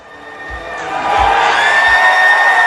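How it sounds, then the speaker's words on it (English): A live audience at the E3 2019 Xbox conference cheers for Keanu Reeves. The cheering swells from a moderate roar into loud, sustained whoops and shouting, with a few low thumps beneath the crowd. "After the Keanu Reeves trailer at the E3 2019 Xbox conference and him walking out on stage, the crowd went nuts"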